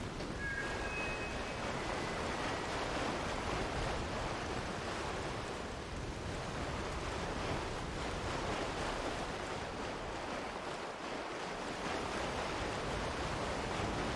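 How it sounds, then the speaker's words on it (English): Dense, steady rain hisses continuously at full volume in the video game Lies of P, a broad wash of noise with no voices. "It is raining a lot."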